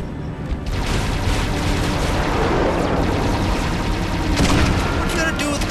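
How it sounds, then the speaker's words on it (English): A grenade launcher fires in Halo Reach, with dense, loud bursts of blasts and gunfire that keep going without a break, plus some game voices mixed in. "What you gotta do with the freaking grenade launcher?"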